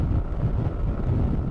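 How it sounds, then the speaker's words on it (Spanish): Strong, steady wind roar buffets the microphone while riding a Macbor Montana XR1 motorcycle at speed into a heavy headwind, filling the whole clip with a dense low rumble and no talk. "Y hace mucho viento, es exagerado."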